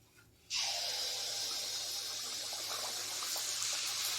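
Pua pitha made with date palm jaggery bursts into a loud, steady sizzle as it drops into very hot oil, and the crackling hiss continues unbroken with faint bubbling pops.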